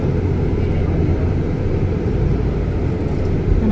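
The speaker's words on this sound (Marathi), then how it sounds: "बघितले ना किती मोठे मोठे विमान आहेत" Large airplanes at an airport give off a steady low rumble of jet engines, continuous and fairly loud throughout with no distinct events.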